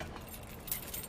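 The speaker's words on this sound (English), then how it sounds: "Grab our keys." A set of keys jangles briefly as it is picked up inside a camper during RV teardown, a quick close metallic rattle that is faint overall.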